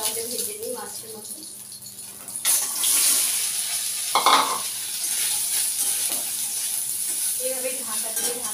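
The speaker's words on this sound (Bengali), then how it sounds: "আমি সয়াবিনটা তাহলে ভেজে নিই মাছের মতো।" Turmeric-coated soybeans hit hot mustard oil with a sudden loud sizzle that keeps crackling steadily nearby, after a quieter stretch with faint voices and clatter.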